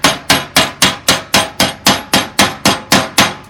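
A chipping hammer knocks flux slag off a fresh lap weld with about thirteen loud, close metallic strikes in an even, rapid rhythm, with nothing else audible.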